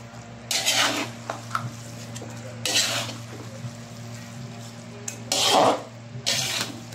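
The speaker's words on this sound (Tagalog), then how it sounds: "Haluin ko na para mag-combine pa rin yung lasa niya" Pansit sotanghon noodles with kimchi are stirred in a pan, with several bursts of scraping and clattering utensil strokes against the metal over a quiet background, with light sizzle between them.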